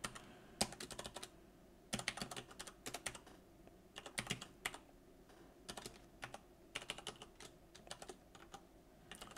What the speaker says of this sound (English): I type my credentials.